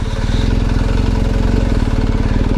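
A motorcycle with an aftermarket exhaust idles loudly up close, its deep, throaty exhaust pulsing in a fast, steady rumble throughout.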